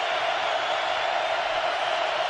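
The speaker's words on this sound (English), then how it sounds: "Crowd is roaring." Stadium crowd roaring at a 2005 college football game between USC and Oregon, a steady, dense wall of broadband noise from a large crowd, loud and continuous without breaks.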